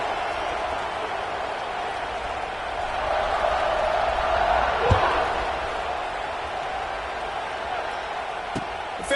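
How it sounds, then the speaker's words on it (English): A football video game crowd cheers and buzzes after a score, a broad roar that swells midway, with commentary voices over it and a couple of sharp thuds. "this crowd is buzzing after that last score"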